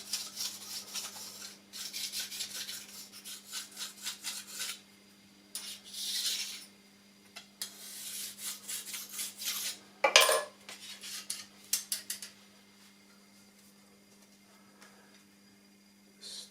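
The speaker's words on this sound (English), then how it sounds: "Take the finest diamond stone I have." A fine diamond stone hones the burr off a big metal caliper, giving close, intermittent raspy rubbing and metallic scraping strokes that come in bursts with pauses, fairly quiet and with no speech.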